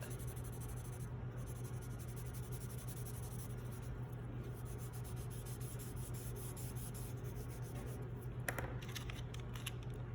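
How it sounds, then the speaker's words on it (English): A pencil and blending stump shade on paper with soft, continuous scratchy rubbing strokes, very quiet and close, broken by brief pauses and a few quicker flicks near the end. "Use the pencil, use the blending stump."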